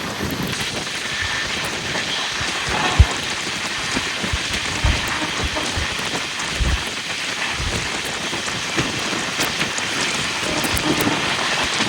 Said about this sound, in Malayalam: മഴയൊക്കെ പെയ്തപ്പോൾ എന്ത് ഭംഗിയായിരുന്നൊക്കെ